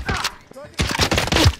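Gunfire in Call of Duty: Cold War Warzone comes as rapid, punchy bursts of shots, close and loud, in two clusters with a short lull between them, mixed with a player's shouted talk.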